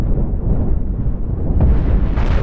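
Ship weapons keep firing in the Cosmoteer space game, a loud, continuous low rumble of explosive booms and blasts with brief sharper crackles near the end.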